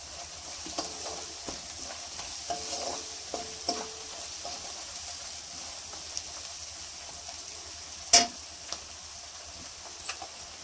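Chicken liver frying in a pan with curry leaves, a steady low sizzle with scattered crackles and pops, one sharper spatter near the end, no talking.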